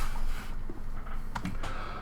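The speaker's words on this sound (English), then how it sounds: "I'm typing as I'm doing it" Brief keystrokes on a computer keyboard while entering a database query, a few quick clicks near the end over a low background hum, with no talking.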